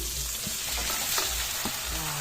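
Kangkong and tofu are stirred in a frying pan for adobong kangkong, a steady loud sizzle broken by a few soft spatula scrapes and knocks.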